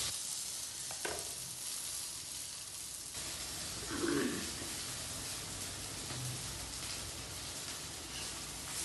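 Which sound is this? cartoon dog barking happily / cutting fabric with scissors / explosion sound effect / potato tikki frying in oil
potato tikki frying in oil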